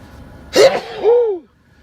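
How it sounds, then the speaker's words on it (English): One loud sneeze up close: a sharp burst followed by a drawn-out, falling exhale, then quiet. "The art of the sneeze into the tissue"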